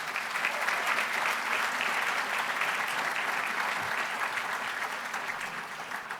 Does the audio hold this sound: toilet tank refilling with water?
no